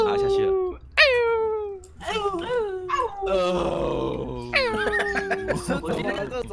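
Minecraft wolves give a string of close, sharp whining and yelping calls with rising and falling pitch, interrupted by short gaps, and a voice talks over them.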